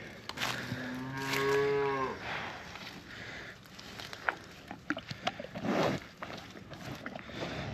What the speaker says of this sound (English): Give this other cow some.